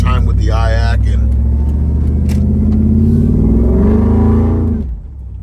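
A built Ford SVT Lightning pickup's engine roars and pulls hard under load, a loud, rising drone that swells then drops off near the end, with someone talking over it.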